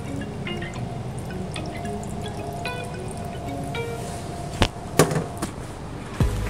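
Cranberry juice is poured into a glass for bubble shot cocktails, making soft dribbling and trickling drips, followed by a few sharp clinks near the end.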